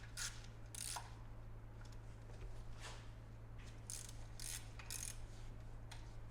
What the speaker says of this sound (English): These get torqued to 6 foot-pounds as well.